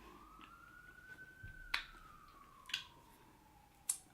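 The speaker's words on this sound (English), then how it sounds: "You're going to hear a lot of sirens" A distant city siren wails, slowly rising then falling, with a few sharp clicks or taps standing out against quiet city background.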